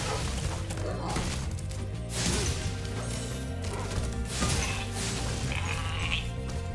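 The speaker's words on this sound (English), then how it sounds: "He's a sheep." Sheep bleats from Spyro the Dragon in the Reignited Trilogy, heard in a busy game mix with steady music, impacts and effects throughout, the bleating mixed in rather than standing alone.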